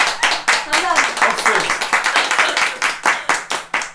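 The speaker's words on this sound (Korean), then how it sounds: "박수 이렇게 해야 됩니다" A small group claps steadily and briskly, sharp overlapping hand claps running for the whole stretch, with someone briefly voicing thanks over the applause.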